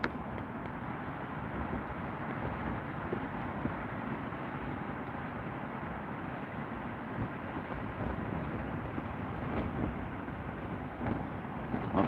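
Strong wind buffets the microphone at sea from a fishing boat during shark fishing, a continuous rough low roar with gusty fluctuations, no talking.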